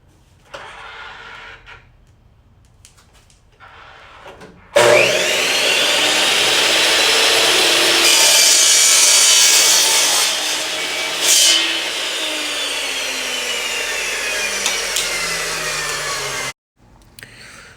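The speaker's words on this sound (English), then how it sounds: "And I used a miter saw." A miter saw spins up with a loud whine and cuts through PVC pipe, a sustained buzzing grind lasting several seconds before the motor stops abruptly; quieter handling noises come before it.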